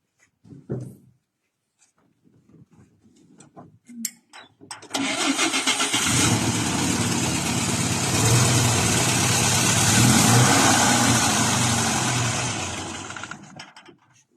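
A few soft clicks and knocks, then a car engine cranks and catches, settling into a steady, fairly loud idle that runs on before fading slightly.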